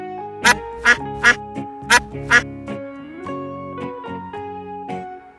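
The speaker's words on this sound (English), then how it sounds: "Duck." A duck quacks loudly six times in quick bursts, some in close pairs, over steady background music that carries on afterward.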